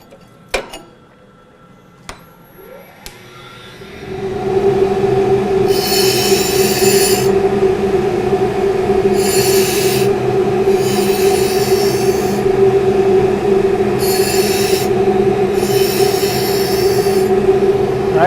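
A diamond dresser trues the spinning wheel of a Blademaster skate sharpening machine. A few faint ticks come first, then the wheel's steady grinding hum rises, with several bursts of harsh hissing scrape as the dresser passes across the wheel face.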